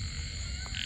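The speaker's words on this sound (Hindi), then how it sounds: "पहली बार देखा इतना मोटा मेंढक" A large frog croaks at night at a campsite in the Aravali hills near Gurgaon, a low, fairly faint call against steady background noise with no talk.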